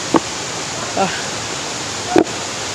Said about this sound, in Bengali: দূরে সাউন্ড শুনতে পাচ্ছেন ঝর্ণার জলের যে কতটা আওয়াজ নিয়ে পড়ছে